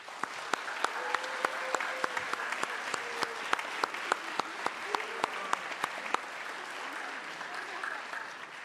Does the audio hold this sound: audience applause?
yes